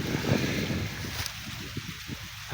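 Steady wind rushes and buffets the microphone outdoors in a farm field during the corn harvest, a continuous broadband roar with no speech.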